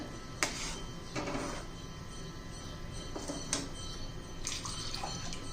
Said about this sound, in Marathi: गरम पाणी घालायचं आहे भांड्यामध्ये